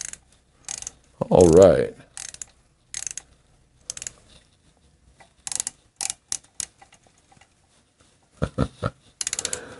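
Ratchet wrench, a stiff, not-yet-broken-in tool, clicking in short bursts while Shovelhead hydraulic lifter blocks are bolted into the engine case, with brief spoken remarks between strokes.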